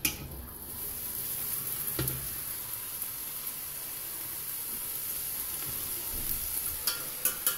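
Meat and onions for chili sizzle and fry steadily in a pot on a stovetop at medium heat, a continuous close crackle with a few sharp clinks of utensils near the start and end.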